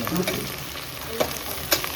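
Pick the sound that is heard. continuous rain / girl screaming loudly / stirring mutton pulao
stirring mutton pulao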